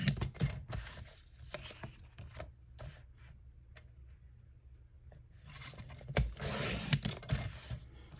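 A paper trimmer blade slicing through scrapbook paper makes quiet, short scraping swishes in a few bursts, with a near-silent pause between them.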